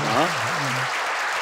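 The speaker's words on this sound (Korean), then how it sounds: "우리 박수로 모시도록 하겠습니다" Applause rises from a church audience welcoming a guest speaker onstage, steady clapping that continues as a voice talks briefly over it at the start.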